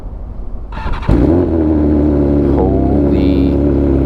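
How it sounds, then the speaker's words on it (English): A 2020 BMW S1000RR liter-bike engine fires up with a sudden loud bark, then holds a strong, steady rumbling idle with a brief rise in revs, very close. "This bike is loud."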